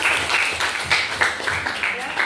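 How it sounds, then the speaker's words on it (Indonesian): A group in a fashion design classroom claps hands together in quick, rhythmic bursts of applause, with voices mixed in under the clapping. "beri dulu tepuk tangan"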